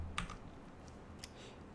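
Quick clicks of typing on a computer keyboard while entering a drive partition in a terminal command, a few distinct keystrokes with short gaps between them, close and quiet.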